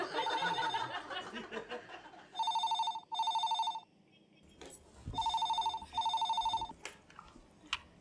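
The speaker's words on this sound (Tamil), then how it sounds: "இது டிவியில் வர டெலிஃபோன் சவுண்டு" A telephone on a TV drama rings in two paired electronic bursts, pauses, then rings twice more, with faint laughter and background noise between the rings.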